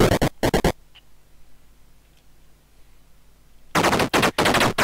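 Machine gun fire in the tank game Armoured Commander comes in loud rapid bursts, two short ones at the start, then a quiet gap, then a longer sustained burst near the end.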